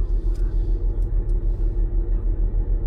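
A car's engine rumbles on a street in Enugu, a low, steady, pulsing drone that stays loud and close throughout.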